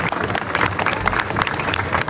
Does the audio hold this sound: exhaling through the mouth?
no